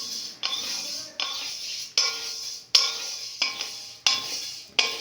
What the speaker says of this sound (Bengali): তলায় পুড়ে যাতে না যায় তার জন্য অনবরত নাড়তে হবে।